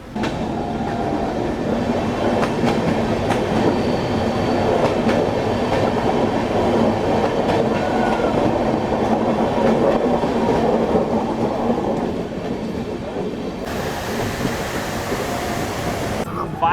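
Amaravati Express passenger train running on rails near Dudhsagar, a steady loud rumble with faint wheel clatter throughout, continuing unbroken for the whole stretch.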